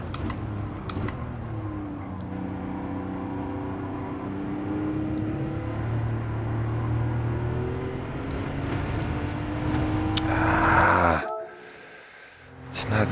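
In Gran Turismo played on PSVR2, a car engine drones steadily while its pitch slides as the car slows, with some voice in the background. The engine swells near the end, then cuts off abruptly into near silence.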